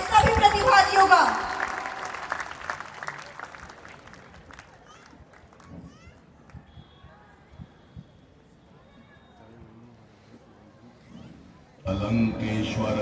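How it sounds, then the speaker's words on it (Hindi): Audience at a school annual function clapping loudly at first, the applause fading over several seconds into scattered claps and quiet, then a burst of stage sound returns near the end. "एक बार जोरदार तालियों के साथ स्वागत करें हमारे सभी प्रतिभागियों का।"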